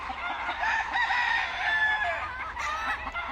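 A two-year-old round-head hatch rooster on a Louisiana farm crows once in a long drawn call at moderate distance, with faint farmyard background and no speech.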